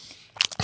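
Food being bitten and chewed during a mukbang, a brief run of close, loud crunches and crackles rising to a final burst, heard alone without speech.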